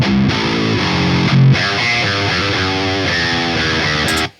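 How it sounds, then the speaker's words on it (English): Distorted electric guitar through a Neural DSP Omega amp plugin, with a brief chugged start and a short gap, then sustained heavy chords and riffing that cut off abruptly near the end. "we've got the Omega amp from Neural DSP."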